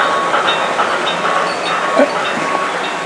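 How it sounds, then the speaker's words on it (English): A small locomotive runs along the track with a continuous mechanical whir and light rhythmic clicking, steady and fairly close, no voices. "Here's the loco just coming up towards me now."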